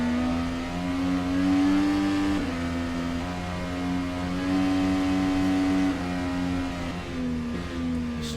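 An IndyCar race car engine on the Mid-Ohio circuit in a racing game drones steadily at high revs, its pitch wavering slightly as the car works through the turns, loud and continuous with no voices.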